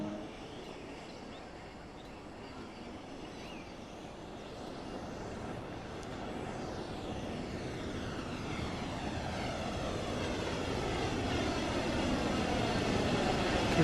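A train passes in Train Sim World on the German Main-Spessart Bahn, a broad rumbling roar that swells steadily louder over about fourteen seconds, with no voices.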